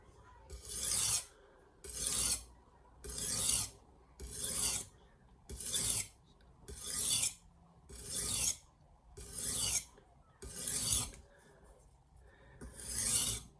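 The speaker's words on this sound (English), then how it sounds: "let's deburr it" A knife is drawn across a diamond sharpening plate to deburr the edge: about ten evenly spaced rasping strokes, close and clear, with short pauses between and no talking.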